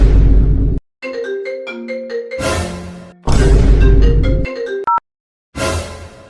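A mobile phone rings with a loud, melodic electronic tune of bright stepped notes, broken up by bursts of harsh noise and short silences.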